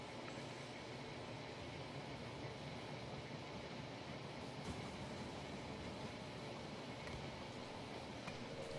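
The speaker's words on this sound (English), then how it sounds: "Train has arrived at the station." Train pulling into a station in the zombie strategy game They Are Billions, a dense steady rumble of rolling wagons and rail noise, loud and unbroken throughout with no voices.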